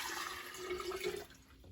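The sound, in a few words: water poured into a jar of sprouting seeds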